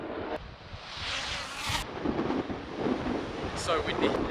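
Strong wind blows outdoors at a supercar club gathering, buffeting the microphone in a rough, rumbling gust with hissing bursts, fairly faint overall, while someone speaks.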